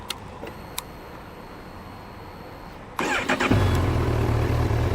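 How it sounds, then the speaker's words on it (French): A Honda CB1000R motorcycle sits quiet with a few small clicks and beeps, then the starter cranks and the engine catches, settling into a loud, steady idle. "c'est le bruit du moteur que je vais vous faire entendre immédiatement."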